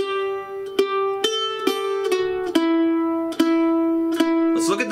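Bluegrass mandolin picks the beginner melody of We Wish You A Merry Christmas, a string of bright plucked notes in steady rhythm with ringing overtones, played alone and close up.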